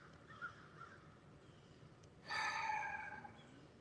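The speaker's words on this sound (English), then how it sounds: "you hear the crows more than you do the traffic" A single crow caws, one rasping call of about a second, heard on a rainy day over a faint, steady wash of rain and distant city traffic.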